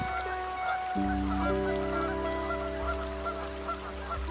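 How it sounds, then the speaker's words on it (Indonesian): A flock of geese gathered for migration, honking repeatedly at a moderate distance over a steady, sustained tonal background. "begitu banyak angsa sebangsanya berkumpul dengan satu tujuan"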